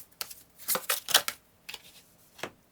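Tarot cards are shuffled by hand in quick crisp riffling bursts, a few close dry flurries separated by brief pauses.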